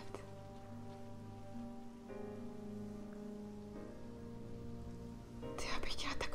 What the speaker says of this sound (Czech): Ještě nám začalo pršet.